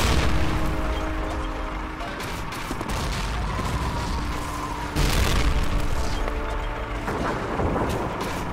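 Gunfire and heavy explosions fill a Call of Duty 2 battle, dense rattling shots over rumbling booms, with a sharp loud blast midway and another burst near the end, all close and loud.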